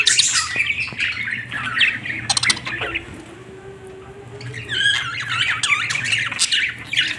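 Budgies feeding each other chatter and squawk in rapid, busy bursts, a lively flock close by with a quieter stretch midway before the shrill calls pick up again.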